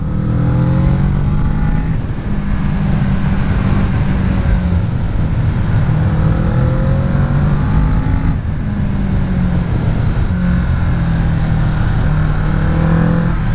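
A 2017 Kawasaki Z650 motorcycle accelerates on a wet road. The engine note climbs loud and close in repeated surges through the gears, with a brief dip between each pull and steady rumble and wind noise underneath.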